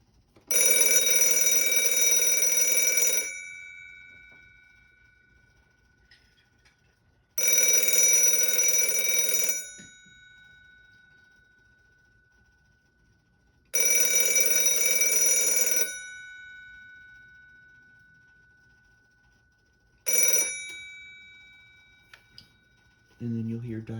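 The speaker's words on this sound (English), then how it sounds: "ring the phone" Bell of a 1981 INDETEL wall telephone rings in three long bursts of a few seconds each with quiet gaps between, followed by a short fourth ring. It is loud, bright and close in a quiet room.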